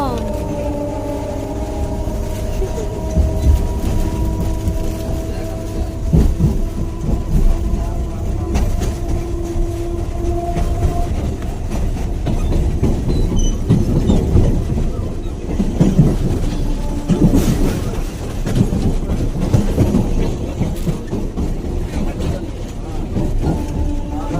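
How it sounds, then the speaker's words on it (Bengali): A passenger train heard from on board, with a steady low rumble and rattling of the carriage running through the whole stretch, plus occasional louder clatters, under faint background talk. "আমরা চলে এসেছি এই ট্রেনে"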